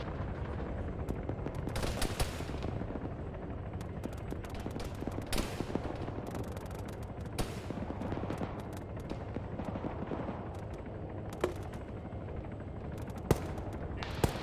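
Video game military combat as rifles and machine guns engage a BTR armored vehicle, steady bursts and single cracking shots ringing out near and far over a constant rumbling background.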